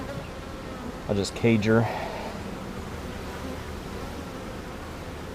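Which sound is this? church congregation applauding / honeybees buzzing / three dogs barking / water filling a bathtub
honeybees buzzing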